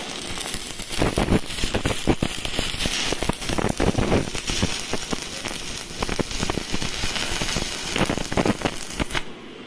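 Arc crackle from a Sunrex 280 MMA DC inverter stick welding machine set to 160 amps, a continuous loud sizzling and popping hiss with irregular bursts, close by.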